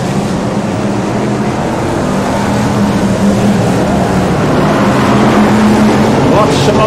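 BriSCA Formula 1 stock cars racing at Northampton in 1999, a dense continuous roar of many engines on track, loud and steady throughout with commentary voices mixed in.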